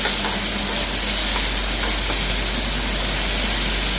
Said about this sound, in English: stir well.